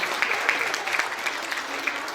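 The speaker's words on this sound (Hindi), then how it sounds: "भरपूर तालियों में हाफिज नोमान साहब को स्टेज पर बुलाऊंगा सर," Audience applause at a school annual function as a guest is called to the stage: continuous crowd clapping with a few sharper individual claps standing out, close and lively.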